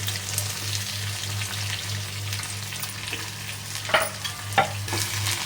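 Onion frying in a pan gives a steady sizzle under a low background hum, with a couple of louder scrapes of stirring near the end.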